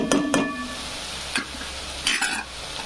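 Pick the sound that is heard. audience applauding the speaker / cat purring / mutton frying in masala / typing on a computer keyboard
mutton frying in masala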